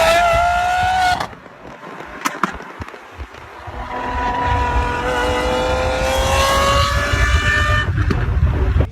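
A purple Lamborghini SVJ supercar engine revs hard, its pitch climbing as it accelerates, with a few sharp pops before the rising engine note.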